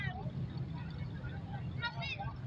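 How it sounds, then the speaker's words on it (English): A 1960s Ford Mustang engine rumbles low and steady at a classic car parade, a continuous throaty drone with crowd noise and voices around it. "Noise of that Mustang."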